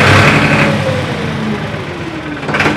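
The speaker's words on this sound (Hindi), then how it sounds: "काफ़ी मक्खन साउंड ट्रैक्टर का आपको जो है देखने को मिल जाता है।" A Powertrac 434DS Plus 39 HP tractor engine runs close by with a smooth, steady diesel drone that holds even throughout, with a brief rise near the end.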